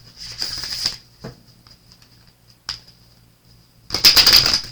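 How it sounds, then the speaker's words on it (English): Talking to Heaven angel cards shuffled by hand in a few quick riffling bursts, close and crisp, with short pauses and a louder final shuffle. "I wanted to pull a couple of the Talking to Heaven angel cards."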